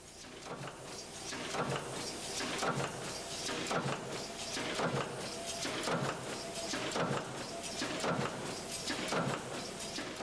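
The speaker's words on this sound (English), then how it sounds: "are punched in the flat, beige-brown lithographed metal sheets using a special eccentric press" An eccentric press punching track sections from flat lithographed metal sheets in a Märklin model railway factory, thumping in a steady repeating rhythm about once a second amid loud, continuous machine clatter.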